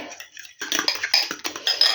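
A spoon stirring zucchini batter with eggs makes rapid clinking and scraping against a bowl, close and continuous, with a short gap near the start.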